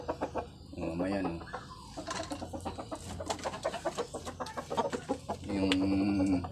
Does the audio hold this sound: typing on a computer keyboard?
no